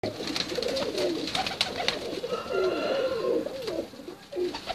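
Teddy and Ferozpuri pigeons coo on a rooftop loft, several soft, throaty rolling coos overlapping near at hand, with faint chirps and a background hum.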